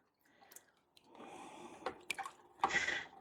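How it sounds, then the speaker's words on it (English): An aquarium intake sponge swished through a small container of water, giving soft wet squishing and sloshing with a few sharp drips and splashes, close and fairly quiet, with no talking. "So again, I'll just kind of swoosh this into my little water here I have."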